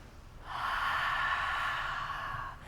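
Heavy, sustained breaths during a power yoga flow, a long steady exhalation with a rushing, airy quality, close and fairly loud, alone without talk.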